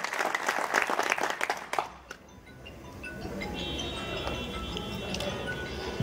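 An audience at a donation gathering claps warmly for a restaurant donor who pledged 10,000 birr. Dense applause fills the first two seconds, then fades into a quieter room hum with faint ticking and clinking.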